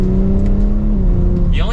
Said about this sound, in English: have one exhaust note for this car, even in dynamic mode